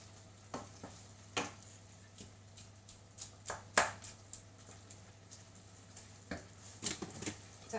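Aubergine is stirred in a pan under a low, steady sizzle, with scattered soft scrapes and taps of the spoon repeating irregularly, close and quiet.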